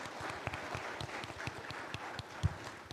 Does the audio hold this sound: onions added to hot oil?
no